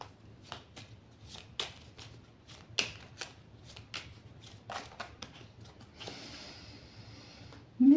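A deck of tarot cards being shuffled and cut by hand, with a series of crisp flicking riffles and soft slaps, then a longer rustling shuffle and a final thump, close and alone.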